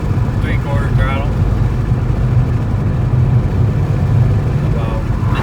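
A Ford engine with misfires running at about three-quarter throttle, a loud, steady droning rumble that stays constant, with a voice speaking briefly over it near the start and end.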